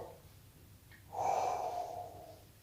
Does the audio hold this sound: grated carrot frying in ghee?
no